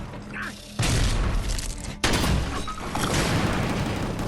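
Dense, continuous gunfire from the Gungrave G.O.R.E video game, rapid-fire Evo guns blasting with booming bursts, loud and sustained throughout with a sharp new burst midway.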